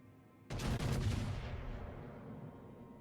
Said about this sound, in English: pot shots towards that Richelieu you can't see